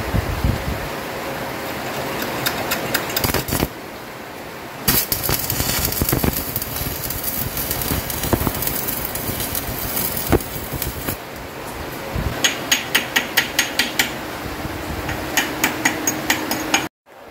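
Metal welding fills the clip with a steady, close crackle and sizzle that breaks off briefly twice, then returns with a run of sharp regular ticks near the end.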